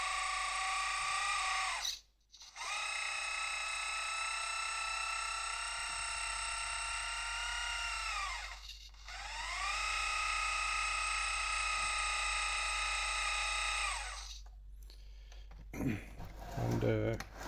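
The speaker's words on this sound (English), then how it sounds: "it's controlled entirely from the hydraulic cylinders" Hydraulic cylinders on a 1/12 scale RC DT-54 tractor whine steadily in three long electric-pump runs separated by short pauses, with the pitch dipping at the end of each stroke and brief handling noise at the end.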